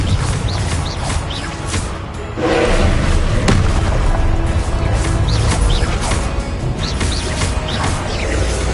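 A Confringo fire spell bursts in Hogwarts Legacy combat, booming blasts and thuds that stay loud and dense throughout, with faint chirping bird-like calls scattered over the din.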